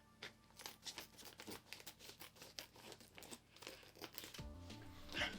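A brewing ingredient pack is cut open with scissors for a Bavarian wheat beer, with steady crinkling and rustling of the packaging close by, ending in a few sharper snips and handling sounds.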